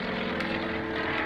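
Propeller aerobatic airplane flown by Bob Davis at the 2003 Dayton Airshow, performing knife-edge flight, its engine a steady, loud, continuous drone with a brief swell partway through.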